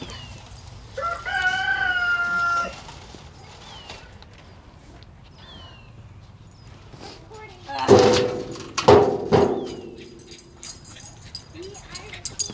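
A rooster crows loudly nearby, followed by more crowing and clucking from chickens in the desert, with a dog whimpering faintly in the background.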